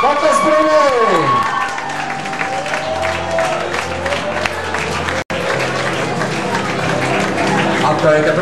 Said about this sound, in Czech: Potlesk pro něj.